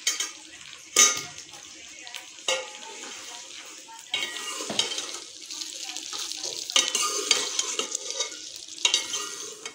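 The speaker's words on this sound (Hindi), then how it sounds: "तो अब इसमें मैं भिंडियाँ डाल दूँगी और इसको अच्छी तरह से फ्राई कर लूँगी" Okra frying in hot oil in a pan with steady crackling sizzle, punctuated by occasional stirring clatter against the metal; close and continuous throughout.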